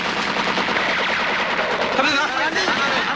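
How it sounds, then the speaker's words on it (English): Rapid gunfire in an action film scene set at a river crossing, apparently from a nearby patrol boat, dense and continuous bursts close and loud throughout, with shouting mixed in. "The gunfire seems to come from a nearby patrol boat"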